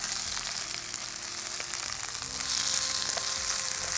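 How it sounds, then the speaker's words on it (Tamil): Coriander powder frying in a pan, a steady crackling sizzle with fine spitting bursts, close and continuous, no voices. "தனியாத்தூள் ஒரே ஒரு நிமிஷம் அதை வதக்கிட்டு"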